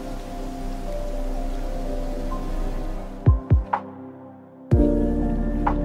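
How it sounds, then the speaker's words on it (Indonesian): Steady rain pours down under a tree outdoors, a dense even hiss broken by a few sharp drops or knocks midway, then resuming just as heavy. "Namun kala itu turun hujan"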